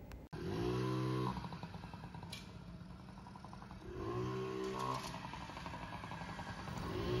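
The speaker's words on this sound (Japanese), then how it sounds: "キックペダルがはみ出ており、走行中に足が接触、ガチャガチャという音が発生しておりました。" A Honda Motocompo scooter on a short test ride hums along at low revs, with two bursts of rising engine note and a rattling clatter underneath where a protruding kick pedal knocks against the rider's foot.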